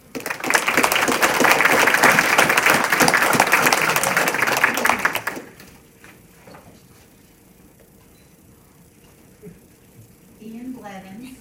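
A school board meeting audience applauds, with loud, dense clapping for about five seconds that then stops abruptly, leaving a quiet room with faint shuffling and a brief voice at the end.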